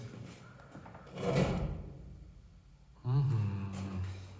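A heavy door in a Soviet Cold War-era bomb shelter is worked twice, first a scraping swell that fades, then a sharper, louder scrape with a resonant low rumble, heard up close in a quiet concrete corridor.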